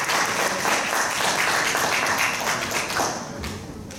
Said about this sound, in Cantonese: 俾啲掌聲啦！